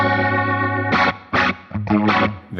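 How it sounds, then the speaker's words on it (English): A Leslie-style rotary effect on an amp modeler, its rotor rate swept by an expression pedal: a sustained processed note gives way to a series of choppy, swirling chordal bursts with pulsing modulation. "We'll turn on our rotary block and attach our pedal to the rate of this block."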